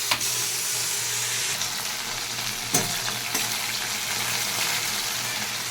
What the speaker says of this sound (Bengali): ভেন্ডিগুলো আমি কড়াইতে দিয়ে দিয়েছি ভাজার জন্য।